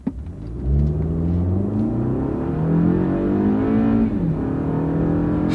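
A Toyota with a multi-speed automatic transmission accelerating from a stop with traction control off, its engine droning up in pitch and easing smoothly through gear changes, heard from inside the cabin, steady and fairly loud without talk.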